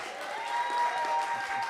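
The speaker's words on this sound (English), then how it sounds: "A big round of applause," An audience claps for a singer at a Burns Night radio event, a modest, fairly steady patter of applause with a faint sustained tone beneath it.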